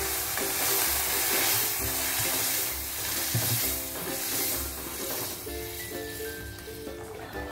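Ghugni with spices sizzling and being stirred in a pan, a continuous scraping fry noise with a burst of louder hiss midway as water goes in.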